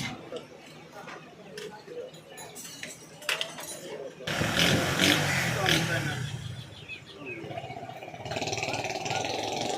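A motorcycle engine being checked after a breakdown runs and revs up loudly midway, settling back to a steadier drone, with people talking over it.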